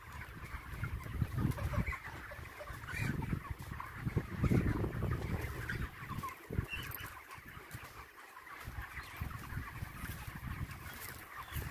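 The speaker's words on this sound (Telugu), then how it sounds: "ఎన్ని కోళ్ళు చూడండి" A crowd of chickens clucks and chatters continuously inside a large farm shed beside a field, a dense, busy flock sound with no voices.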